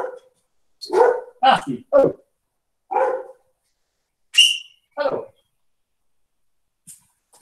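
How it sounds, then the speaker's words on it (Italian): Dog barking indoors in several short, sharp bursts spaced across the moment, fairly close, with a high whistle-like squeak in between and a person speaking briefly. "Perché il cane fa casino?"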